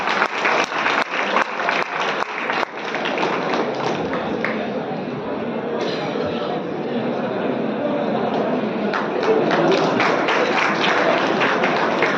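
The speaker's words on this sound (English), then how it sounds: "Please give them a big round of applause, everybody" An audience at a college club inauguration claps for the team, starting with a few sharp, separate claps before swelling into sustained, dense applause, with a brief lull and renewed crisp clapping near the end, voices faintly underneath.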